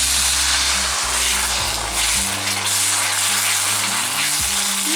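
Hot masala thickened with cornflour bubbling and sizzling in a pan, a constant dense hiss over a low, steady hum, with no talk.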